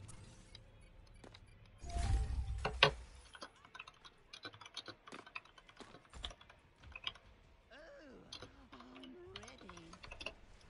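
Quiet computer keyboard typing sounds as a burst of clicking and tapping keys, with scattered keystrokes continuing and a voice briefly talking toward the end.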